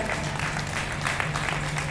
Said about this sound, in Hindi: मेरे मित्र जितने बैठे हुए हैं सब एक बार ताली बजाकर हमें भी ऊर्जा दे दें।